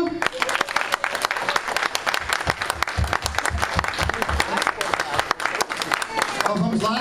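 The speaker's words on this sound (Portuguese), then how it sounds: "Vamos lá, homens, cadê aquela salva de palmas?" A church congregation breaks into loud applause right after a worship song, the clapping dense and sustained with sharp individual claps standing out and some voices mixed in.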